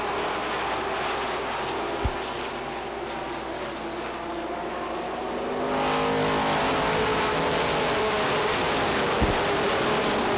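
Race cars at Beech Ridge Motor Speedway roar past in a steady, loud engine drone that swells into a fuller, higher roar partway through, with continuous motor noise from the pack working the track and no talk.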